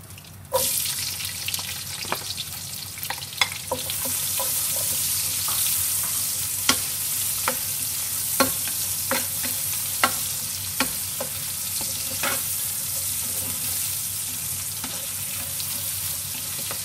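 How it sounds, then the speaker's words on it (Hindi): Onions frying in ghee in a pan, a steady loud sizzle with a bright hiss, broken by sharp scraping and clinking as a spoon stirs them at irregular intervals, close up with no speech. "अब इसमें मैं डाल दूंगी प्याज।"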